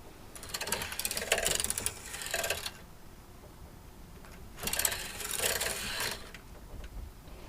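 A knitting machine carriage is pushed over the needles twice, each pass a close burst of rattling, clattering mechanical noise lasting a couple of seconds, separated by quiet.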